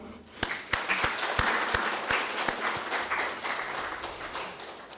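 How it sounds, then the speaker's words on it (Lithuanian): Audience at a portrait exhibition opening breaks into applause, a dense wash of clapping with sharp individual claps standing out, steady and fairly loud across the whole stretch. "noriu tikrai padėkoti Robertui, plojimai tau."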